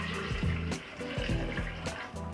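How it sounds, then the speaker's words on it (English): Warm water poured into a dirty Instant Pot Ace blender jar for cleaning, a steady close splashing pour running unbroken at moderate level. "I'm adding about 4 cups of water,"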